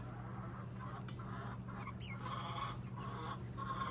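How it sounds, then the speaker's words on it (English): Backyard chickens clucking softly at a distance, scattered calls and brief squawks over a steady low hum, with no talk. "that's all the chickens I have"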